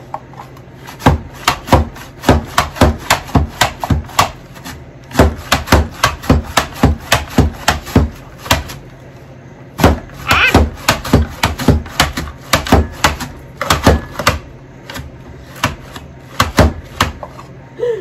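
Cabbage for sauerkraut being sliced on a toothed slicer, a loud, close run of steady rhythmic scraping strokes that comes in quick bursts with brief pauses between them.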